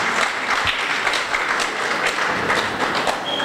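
Audience at a St. Vincent and the Grenadines event breaking into applause for a top secondary school, a dense, fairly loud patter of many hands that runs steadily throughout.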